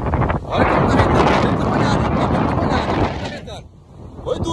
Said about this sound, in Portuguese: Olha como tá ventando